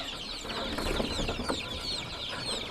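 KUB native chickens in a rainy-season coop keep up a dense, overlapping clucking and peeping, a steady mid-distance chatter from many birds lasting throughout.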